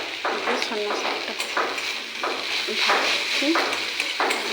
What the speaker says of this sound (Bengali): সন্না শাক ভেজে নিয়েছি